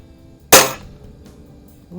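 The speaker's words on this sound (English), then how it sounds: "We got some guys over at the pistol range doing some pistol practice" A single sharp pistol shot cracks out from a nearby pistol range during shooting practice, loud and abrupt, then decays into quiet outdoor background.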